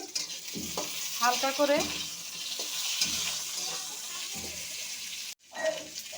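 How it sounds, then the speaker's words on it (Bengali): Pieces of pointed gourd (potol) sizzle and crackle steadily in hot oil in a pan, with stirring scrapes coming in regular bursts. Someone speaks briefly over the close frying. "এখন পটলগুলো ভেজে নিচ্ছি"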